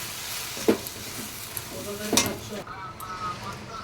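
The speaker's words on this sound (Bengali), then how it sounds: "হালকা হালকা জল দিয়ে এবার আর একটু নাড়বো" Semolina sweet being stirred in a pan after a splash of water, with soft scraping strokes and a low sizzle, a few sharper clicks of the spoon against the pan, quiet and close.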